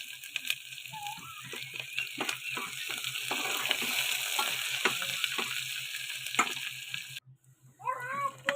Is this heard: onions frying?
yes